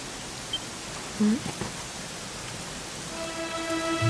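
Steady rainfall in the video game Dragon Quest XI, a dense even hiss that fills the scene, with faint musical tones rising in toward the end.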